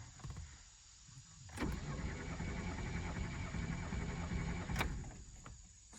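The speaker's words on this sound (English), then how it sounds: "So I've heard that you let it kind of crank over like 4 to 5 times." A Chevrolet S10 engine cranks over on the starter during a compression test, a steady rhythmic churning from close by that runs for several seconds and then stops, with no talking.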